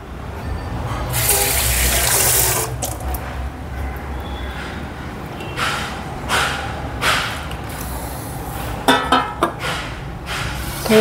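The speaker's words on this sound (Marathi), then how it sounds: "आपण याच्यात थोडं पाणी घालूया" Water poured into a ragda mixture of cooked peas to thin it into gravy, a loud rushing pour at first followed by softer splashes and a few clinking knocks, close, no speech.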